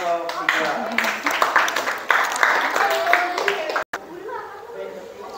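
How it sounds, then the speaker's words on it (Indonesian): A middle-school class applauds a student group after a first-aid presentation, scattered clapping mixed with chatter and voices, cut by a brief dropout near the end. "Tepuk tangan untuk kelompok"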